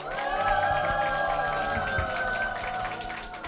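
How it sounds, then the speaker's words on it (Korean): Church congregation giving a hearty round of applause for their pastor, a steady wash of clapping with some cheering over sustained music. "담임 목사님과 교회를 위해서 힘찬 박수 부탁드리겠습니다"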